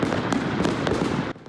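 New Year fireworks in Honolulu crackle and pop in a dense, rapid volley of bursts that cuts off abruptly near the end, with no talking.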